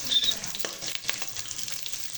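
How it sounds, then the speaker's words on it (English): Beef mince browning with black pepper and turmeric crackles and sizzles steadily in the pan, close and fairly loud, with light stirring movement throughout. "The meat is coming well. It's browning."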